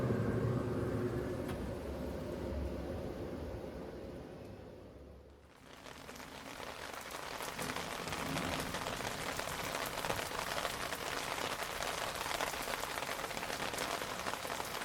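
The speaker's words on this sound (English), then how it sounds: "another rain shower passing through" A passing rain shower falls steadily on surfaces outdoors during a backyard chicken smoking session, starting as a softer patter and then swelling into a dense, continuous hiss of rain after a brief lull, with no one speaking.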